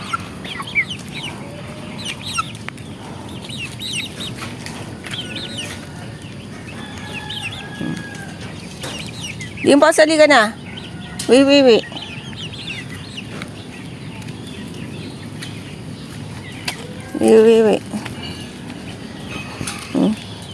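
Chicks and chickens clucking and chirping at close range, with a few louder squawking calls standing out, while a person speaks briefly now and then.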